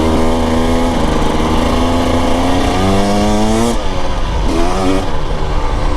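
A 2025 Husqvarna TE 300 Heritage edition two-stroke dirt bike with stock pipe and mapping buzzes loudly while being ridden, its engine pitch rising and falling through gear changes and throttle, heard close up with no talk.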